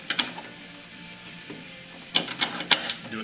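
A ratchet wrench with a 10 mm socket works a bolt on the front rail, giving a few quick clicking bursts late on, close and moderately loud over a quiet background.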